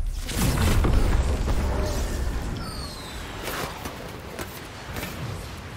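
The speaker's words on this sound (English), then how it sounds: "Dropping a bomb." A bomb blast in the video game Fortnite, a loud booming burst at the start that rumbles on and fades into lower background game noise.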